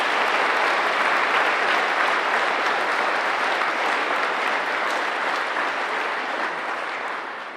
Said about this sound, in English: Let us please give them a much-deserved round of applause.